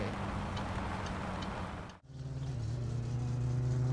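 Satsuma GT car engine running in the driving game My Summer Car, a steady droning hum that dips sharply to near silence midway, then returns louder with a rising tonal whine.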